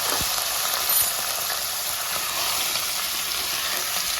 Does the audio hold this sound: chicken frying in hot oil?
yes